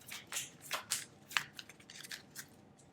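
Cards being shuffled during a Legendary Marvel deck-building game, a quick run of crisp riffling and flicking bursts, close and fairly quiet, with no talking.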